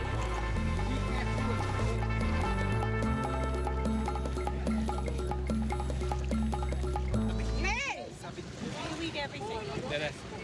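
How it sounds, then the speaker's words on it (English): An enormous fishing net drawn dripping from the water in Vietnam: splashing, trickling water and drips rise after a stretch of loud music that nearly covers everything before. "Before leaving, we draw an enormous net from the water using an ingenious system."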